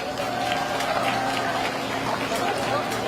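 Dense, steady applause fills an outdoor presidential campaign rally in Jinju. The crowd noise is loud and sustained from start to finish, with murmuring voices mixed in.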